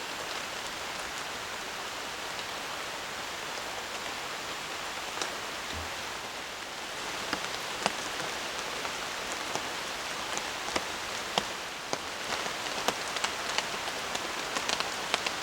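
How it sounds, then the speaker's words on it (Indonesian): Rain falls at night on a campsite, a steady soft hiss of drops on surfaces with occasional sharper taps from nearby drips, continuous and fairly quiet with no voices. "Dan ini hujannya udah turun lagi teman-teman"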